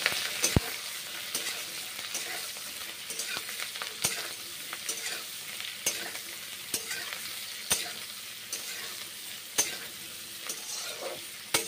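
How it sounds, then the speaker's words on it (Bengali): Mushrooms frying in hot oil, a continuous close sizzle broken by repeated clicks and scrapes of a spoon stirring in the pan, no voices. "মাশরুমগুলো গরম তেলে। ভেজে নিচ্ছি।"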